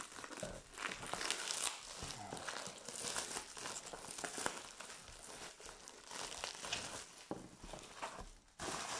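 Strong black plastic foil crinkles and crumples continuously up close as a parcel is unpacked, with irregular rustling bursts and no speech.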